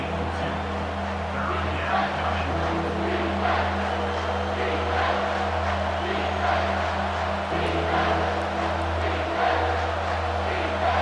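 Stadium crowd in the College Football 25 video game during an LSU Tigers vs. Auburn Tigers matchup, a sustained loud roar with a steady low drone that swells slightly, under commentary-style talk.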